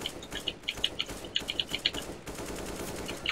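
Rapid automatic gunfire in CS:GO, sprayed through a wall: a close, loud stream of sharp shots in quick bursts, a short pause, then more fire trailing off at the end.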